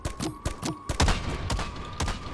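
Weapon fire in the video game Dome Keeper: a quick series of punchy, booming shots in an uneven rhythm, loud and close, with a steady tone humming underneath.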